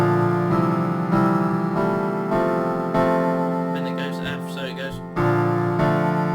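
Piano plays the post-chorus of a song, steady sustained chords with a rhythmic bass pulse, loud and continuous with a short change of texture near the end, no talking.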